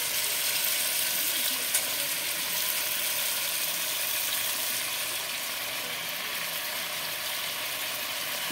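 Vegetables and pumpkin greens fry in a pan, a steady bright sizzle that holds loud and even throughout with faint scraping from stirring and no talk.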